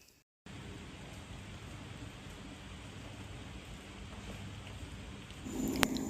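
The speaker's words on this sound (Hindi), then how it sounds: "बाहर आके देखा बारिश लगी हुई है। बहुत ज़्यादा नहीं, लेकिन हल्की बारिश थी" Light rain falls outside in a steady, soft, even hiss that rises slightly toward the end, with no talking.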